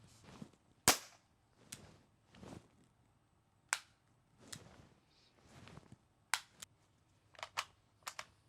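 Tear gas defense launcher fired during a test, a series of sharp, dry cracks and pops spaced irregularly over several seconds, some louder and close, others softer, with quiet gaps between.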